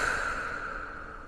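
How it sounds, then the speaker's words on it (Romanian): A single soft, steady exhale released after holding the breath during a morning breathing exercise, quiet and close, with no talking. "Ținem respirația și expirăm."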